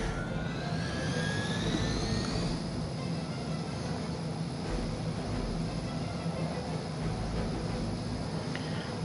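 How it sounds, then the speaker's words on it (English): Helicopter flying in the video game Marvel's Midnight Suns, a steady loud engine and rotor roar with a whining tone that sweeps upward early on, then holds constant and close throughout. "Target the helicopter with attacks."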